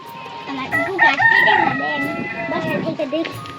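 A rooster crows and chickens cluck close by in a rural village farmyard set on a river island, with a voice talking faintly underneath the calls.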